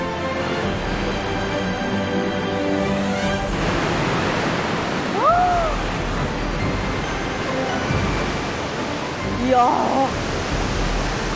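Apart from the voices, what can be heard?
roaring waterfall among granite rocks, Augrabies Falls, South Africa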